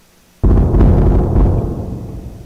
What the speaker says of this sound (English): Oh shit, they're shooting again.